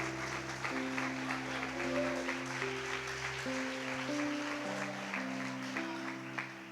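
A worship congregation claps along during a Portuguese church service, soft steady clapping under sustained organ or keyboard chords.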